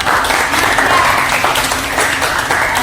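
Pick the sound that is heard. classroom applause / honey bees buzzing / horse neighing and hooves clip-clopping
classroom applause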